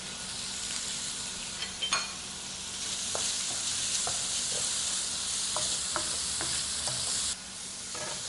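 Shrimp with minced garlic, ginger and a little salt stir-fried in hot oil, giving a continuous bright sizzle with occasional sharp utensil taps and scrapes; the hiss drops slightly near the end.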